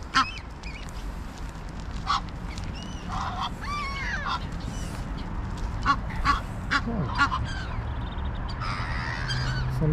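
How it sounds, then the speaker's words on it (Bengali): A flock of geese and ducks being fed by a woman in Frankfurt honks and quacks in scattered bursts, near and far, over a steady outdoor background with faint voices. "অনেকগুলো পাখি এখানে একসাথে হয়েছে"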